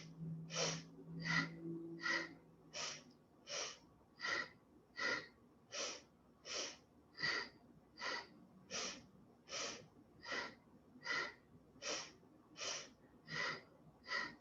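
Slow rhythmic breathing during a movement exercise, about seventeen even breaths close to the microphone, each a soft airy rush with a pause between, with a brief low hum near the start.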